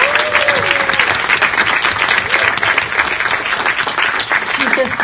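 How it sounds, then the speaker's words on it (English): Audience at a film panel giving a long, dense round of applause, sustained and fairly loud, with faint crowd murmur underneath. "Please, everybody, give a huge round of applause to Kat Kramer."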